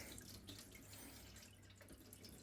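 Distilled water poured over a PSVR2 Sense controller's USB connector, a steady faint running-water wash with a few drips, continuous throughout with no talking.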